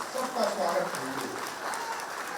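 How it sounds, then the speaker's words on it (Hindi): Applause from the audience at a BJP political event in Bihar, a dense, steady wash of clapping that fills the clip, with talk mixed in. "एक बार जोरदार ताली बजाकर सबका स्वागत कीजिए।"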